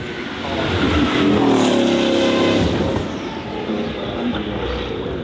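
A Bugatti Bolide hypercar with an 8-litre quad-turbocharged W16 engine accelerates hard, a loud rising roar that swells over the first seconds then fades as it moves away, with a voice talking over it.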